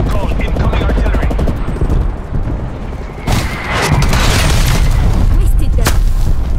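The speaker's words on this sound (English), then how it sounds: "Then call incoming artillery." An incoming artillery strike lands in Call of Duty: Black Ops Cold War multiplayer, with heavy booming explosions and rattling gunfire building up loud and close over a steady battle din.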